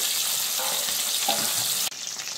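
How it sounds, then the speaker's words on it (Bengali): Rohu fish frying in oil over a high gas flame produces a dense, close sizzle, broken by a brief scrape before the hiss carries on. "এই মাছগুলো আমি লাল লাল করে ভেজে নিয়েছি"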